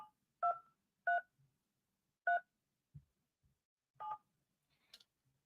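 Telephone keypad tones dialing letters of a name into an automated company directory: five or six short, clean two-tone beeps at uneven intervals, quiet and alone, with a faint thump between them.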